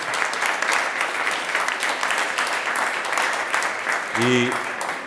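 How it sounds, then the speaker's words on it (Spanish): An audience at a conference panel applauds, steady dense clapping from many hands throughout, with a brief voice rising over it near the end. "Un aplauso para nuestros amigos"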